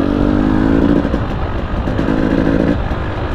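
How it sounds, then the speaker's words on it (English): Husqvarna TE300i TPI 300cc two-stroke fuel-injected dirt bike engine revving loudly and steadily up close, with a droning pitch that dips midway and rises again, no talk. "Now this 300 TPI was very easy to control, and for a 300 two-stroke, it was actually pretty predictable"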